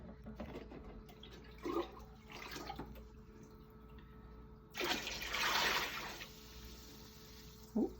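Water from a bucket poured into a saltwater aquarium, a sustained splashing gush in the middle of the clip, with a brief splash just before it and another near the end.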